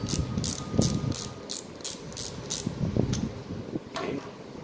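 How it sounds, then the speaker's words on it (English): The drag clicker on a Shimano Ultegra 14000 Ci4+ XTB spinning reel ticks in a rapid, steady run of sharp clicks as line pulls off, close and fairly loud over faint mechanical whirring. "the drag clicker sound is very loud"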